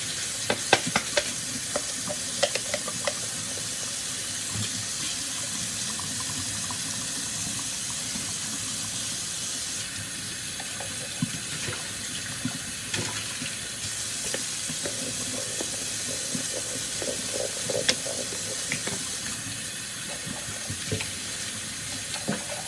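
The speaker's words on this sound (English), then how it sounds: "Just wash all of his bottles." A sink tap runs while baby bottles are washed underneath it. Water hisses and splashes steadily, and hollow plastic clunks and rattles come through now and then, all close by with no talk.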